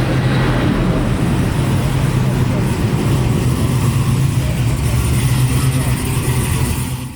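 A supercharged LS9 V8 in a 1967 Chevy Nova idles with a deep, steady, loping rumble through mufflers running out the back, loud and close, with possible faint talk underneath.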